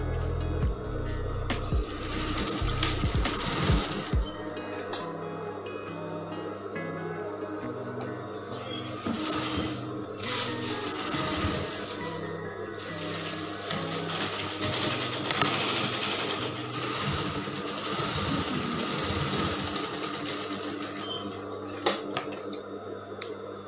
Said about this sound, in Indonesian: Pertama kita jahit dulu untuk bagian bahunya.